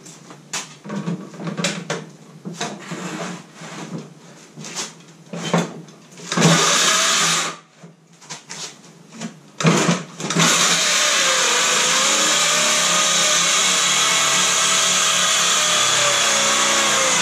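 A DeWalt cordless saw starts in short bursts, then runs steadily and loud for several seconds in a sustained whine, with no talk.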